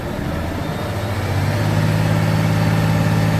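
Volvo 500-horsepower Euro 6 truck engine just started, a steady low diesel rumble with a deep hum that settles into an even idle, heard close and alone.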